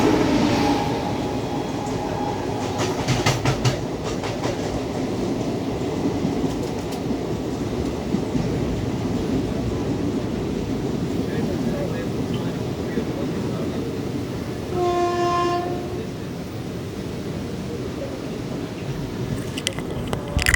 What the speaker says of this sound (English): That's the Nagarcoil Express on the other line.